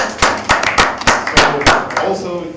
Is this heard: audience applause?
yes